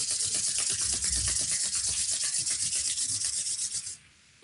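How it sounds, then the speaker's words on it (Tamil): Hands rubbed briskly together during a yoga mudra session, a dense, close hissing friction with fast even strokes that stops abruptly near the end, with no talking. "கை எடுத்து ரப் பண்ணிட்டு"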